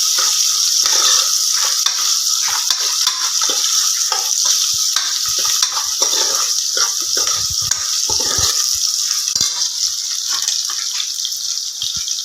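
Onions sizzle steadily in hot oil while being fried until brown for a beef gravy, a loud continuous hiss close to the pan with occasional stirring scrapes and no talking.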